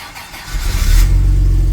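Jaguar XJC engine cranks briefly and catches, firing into a loud, close, rumbling idle after about half a second.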